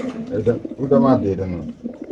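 A pair of pigeons coos softly in short, repeated low calls over about two seconds, with someone talking nearby at a pigeon market stall in Bangladesh.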